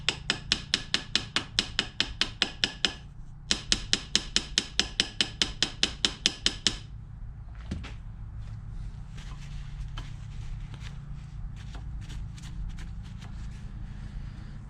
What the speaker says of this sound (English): You can then peen it around some to make it an even tighter fit.